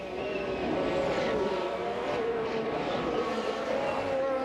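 Formula 1 race cars at the 2019 Canadian Grand Prix, including a Renault-powered car, a loud continuous engine whine with shifting pitch as cars pass, a voice faintly beneath.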